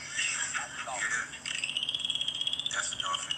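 Dolphins vocalize with high, rising and falling whistles, followed by rapid trains of clicking pulses, moderately loud and close.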